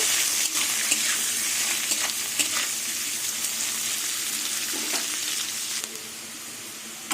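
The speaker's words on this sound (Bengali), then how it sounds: "পেঁয়াজ আর আলু ভালো করে ভেজে নেবো" Onion and potato fry in oil in a pan for a small-fish curry, a loud continuous close sizzle with scraping stir sounds scattered throughout.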